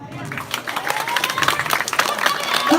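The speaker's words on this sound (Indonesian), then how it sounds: "Tepuk tangannya dong." Audience applause at a live comedy performance in a temple hall in Bali, steady dense clapping from a crowd filling the whole stretch, with some cheering mixed in.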